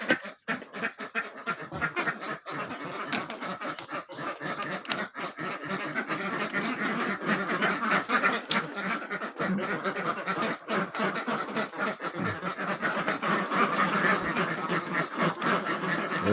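A flock of young laying ducks, about four months old, quack continuously and busily in overlapping calls, close by and fairly loud throughout.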